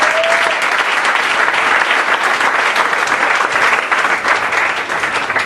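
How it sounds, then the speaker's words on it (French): A church congregation applauds loudly and steadily for the whole stretch, a dense continuous clatter of many hands with no break. "Est-ce qu'on peut acclamer pour le Seigneur?"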